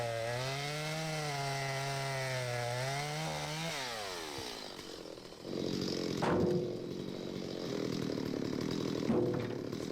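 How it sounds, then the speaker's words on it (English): An electric chainsaw's whine rises and falls steadily, then drops into a rougher, grinding roar as the blade bites into a log. "the nice thing about the electric chainsaw is you don't have to worry about maintaining it"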